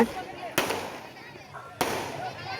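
Two sharp firecracker bangs go off about a second apart over a noisy outdoor crowd at a temple worship, with chatter and clapping.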